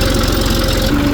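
A tractor engine runs steadily at close range on a farm, its low mid-pitched chug pulsing evenly and continuously with a faint mechanical rattle.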